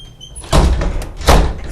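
Two heavy thumps land on a door about three-quarters of a second apart, loud and close, as someone bangs on it from the other side.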